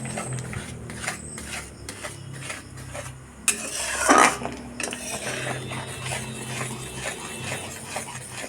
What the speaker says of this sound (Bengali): দুধটা দিয়ে ভালো করে অনবরত নাড়তে থাকবো